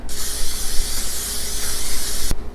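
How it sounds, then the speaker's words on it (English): A continuous aerosol spray hisses steadily for about two seconds at close range, then cuts off abruptly. "I'm going to put just a little bit of the nonstick spray"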